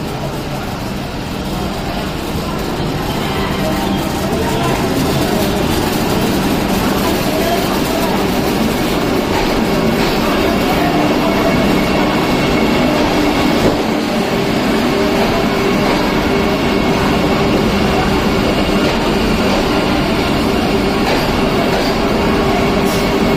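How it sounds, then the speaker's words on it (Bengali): Vande Bharat express train pulling into Malda Town railway station, a steady loud rumble of the rolling carriages and wheels on track, close by and continuous throughout, with a person talking faintly over it. "বন্দে ভারত জাস্ট এসে দাঁড়ালো"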